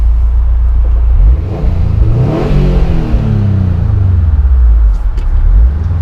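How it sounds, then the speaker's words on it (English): Loud exhaust roar as a 2018 Subaru WRX STI accelerates in a tunnel, pitch climbing then settling into a deep drone, echoing in the enclosed space. "I do wish the exhaust was a little bit louder"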